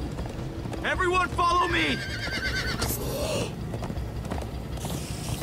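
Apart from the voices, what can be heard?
horse hooves galloping in Minecraft Story Mode video game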